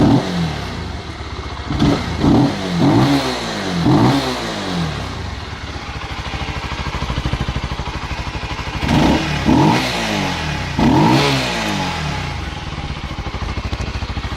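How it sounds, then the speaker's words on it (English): A 2009 Honda CBR125R engine with stock exhaust idles with a clattering rumble and is revved in short bursts, two groups of quick blips separated by idling. "this is how it currently sounds with the stock exhaust"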